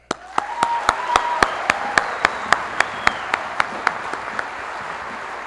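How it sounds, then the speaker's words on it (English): Audience applause at an outdoor Armed Forces Day concert by the USAF Band of the Golden West in Torrance, California, heard as a steady, evenly spaced clapping beat over a broad crowd wash. "we all have a big round of applause for the U.S. military"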